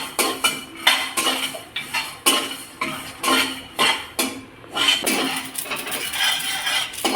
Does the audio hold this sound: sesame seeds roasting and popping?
yes